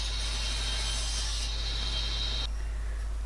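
A saw cuts through wood for a black market sword rebuild, a steady loud continuous rasp with no pauses that shifts and thins near the end, heard alone without talk.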